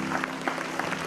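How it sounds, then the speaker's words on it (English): A school annual day crowd keeps up a sustained round of applause while guests make their way to the stage: an even wash of many hands clapping, moderately loud, with no clear voices on top. "Let's keep clapping till they come on stage."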